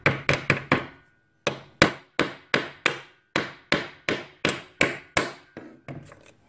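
A homemade PDR blending hammer taps metal in quick, sharp, evenly spaced strikes, first a fast run of four, a pause, then a steady string of about a dozen ringing blows, close and alone.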